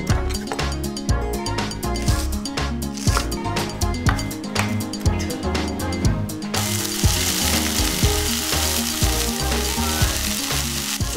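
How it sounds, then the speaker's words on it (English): Potatoes, carrots and onions stir-fry in a pan, with a steady sizzle under rhythmic background music that gives way to a louder, continuous hiss in the second half. "The vegetables taste even better when they're stir-fried"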